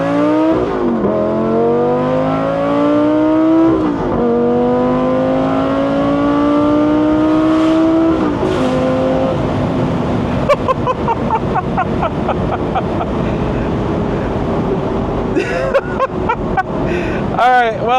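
A Lamborghini Gallardo Spider engine revs hard and climbs through gears, loud rising wails broken by shift dips, then pops and crackles as it eases off, with wind rush and people talking over it.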